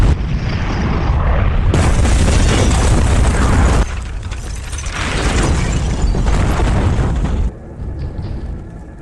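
A car explodes in a house fire in The Mechanic, a loud, sustained blast and roaring burst lasting several seconds that then drops to a lower rumbling tail, with no voices.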